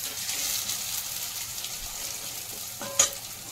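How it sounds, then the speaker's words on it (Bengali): Spice paste for a raw banana kofta curry fries steadily in plenty of oil, a continuous close sizzle with one brief metallic clink near the end. "মশলাটা কষানো হয়ে গেছে, মশলা দিয়ে পুরো তেল ছেড়ে দিয়েছে।"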